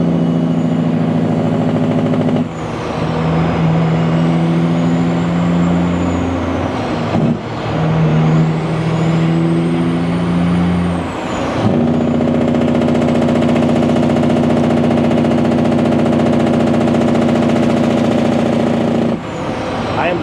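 Heavy truck with an 18-speed transmission driven hard, its loud engine drone climbing and dropping as it shifts through the gears, with short breaks at each change, and no voices over it.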